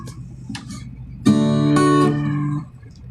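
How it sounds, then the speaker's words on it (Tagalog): A cat meows once, loud and close, a drawn-out tonal cry of over a second, preceded by a few faint soft noises in a quiet room. "Narinig niyo yung pusa ko?"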